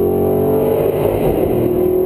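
Steady, loud engine roar of an Audi R8 pulling hard after a downshift to fourth gear, its pitch holding and then rising slightly as it accelerates, with no talking.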